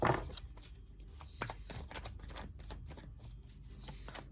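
Tarot cards being shuffled by hand, a run of soft papery riffles and flicks at moderate level, with a brief louder burst near the start and no talking.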